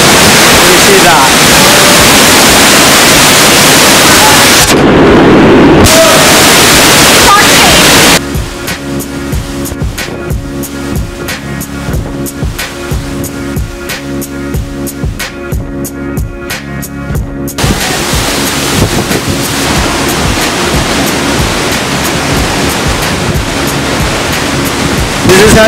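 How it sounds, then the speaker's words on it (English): A roaring waterfall inside an Icelandic canyon makes a loud, steady wash of noise from start to finish, with voices and other sounds partly layered over the roar through the middle. "We are inside this canyon, soaking wet, with this glorious, glorious waterfall right in front of us."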